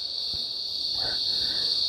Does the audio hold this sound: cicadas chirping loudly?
yes